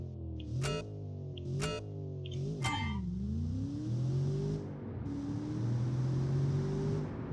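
Supercharged car launching in a racing video game, three sharp revs near the start followed by a steady, rising engine drone as it pulls away, fairly quiet throughout with no talking.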